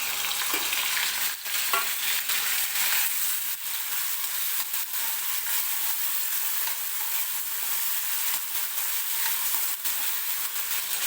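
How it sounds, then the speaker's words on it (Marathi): Tomatoes frying in hot oil with golden-browned garlic for a drumstick curry, a loud, dense, continuous sizzle close up, with occasional clicks of stirring and no one talking. "तर आता टोमॅटो टाकून घेऊया."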